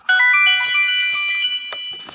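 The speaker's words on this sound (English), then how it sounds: "Let me silence this phone." A phone's electronic ringtone plays loud and alone in a room during a lesson, a bright melodic tone sustained for about two seconds with short breaks between the notes.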